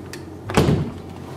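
A hotel room balcony door swings open in a single short movement, close by and of moderate loudness, with no voices heard.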